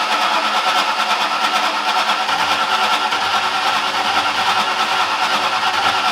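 A freshly rebuilt Ford Foxbody engine fires up and settles into a loud, steady running drone close to the microphone, with a slight rise in revs.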